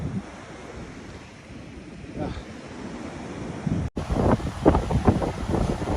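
Waves wash up on Turtle Beach in Phuket, Thailand. The surf is soft and mixed with wind at first, then a sudden cut gives way to louder, closer breaking water and microphone buffeting.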